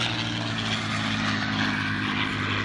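A P-47 Thunderbolt propeller warplane drones steadily overhead at an air show, its radial engine giving a loud, continuous buzzing roar that holds without a break, with no voices.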